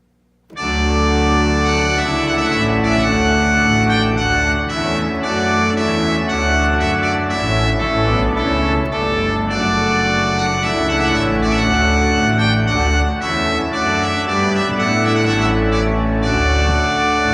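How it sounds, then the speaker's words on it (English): Pipe organ plays an excerpt of the Trumpet Voluntary on a fairly full great and swell with pedal, a bright, dense, sustained sound entering after a brief pause and holding loud and steady to the end. "an excerpt from the trumpet voluntary, very, very popular for weddings, accompanied by fairly full grate and swell"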